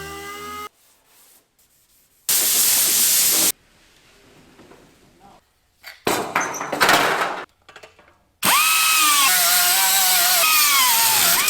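A GM truck bed side panel gets sanded outdoors in loud bursts of abrasive rubbing, broken by quieter gaps and some clattering handling sounds, with a long steady sanding pass at the end.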